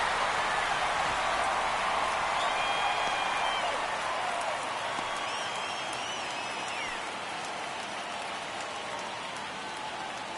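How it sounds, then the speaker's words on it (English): Baseball stadium crowd in MLB The Show 23 keeps up a continuous roaring wash of cheering and noise, fading slightly as it goes, with faint whistles and calls drifting through. "Crowd locked in right now."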